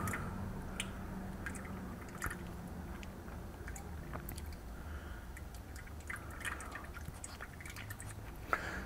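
Engine oil draining from a Honda Civic, steady faint dripping and trickling into a pan, with scattered small drops over a continuous low background.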